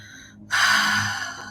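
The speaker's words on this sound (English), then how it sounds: "Breathing in and breathing out." One long, deep breath drawn in after a short pause, close and fairly loud, with an airy rush that holds steady and then eases slightly.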